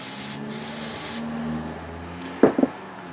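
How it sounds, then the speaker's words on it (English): Silicone spray hissing from an aerosol can into a bag holding old dried rubber seals from a nitro RC engine carburetor, a steady close hiss that cuts off, followed by two brief crinkly rustles of the bag. "So I use all this silicone. Spray it in the bag."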